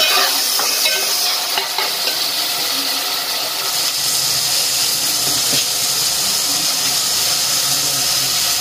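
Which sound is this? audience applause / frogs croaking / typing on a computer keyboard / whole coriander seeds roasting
whole coriander seeds roasting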